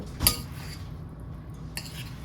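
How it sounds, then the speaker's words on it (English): A utensil stirs melting fathead pizza dough in a bowl, starting with a sharp clink against the side followed by soft scraping and a second lighter tap. "So I'm just going to stir it away from the edges"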